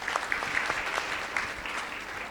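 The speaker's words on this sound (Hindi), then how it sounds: "तालियां हो जाए इनके लिए।" Applause from an audience at a Ugadi celebration in an ashram hall, a short burst of fairly soft, steady clapping that gradually thins out.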